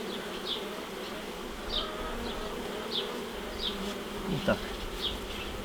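Bees swarm around a beehive nucleus in a close, steady buzz, with individual insects zipping past now and then, and someone briefly speaks over the hum.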